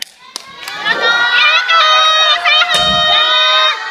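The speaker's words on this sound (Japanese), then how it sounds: "QED 拍手。" Crowd at a dance competition qualifier in Kyoto erupts with loud, high-pitched cheering and shrieking voices for a team, with a few sharp thumps mixed into the sustained roar.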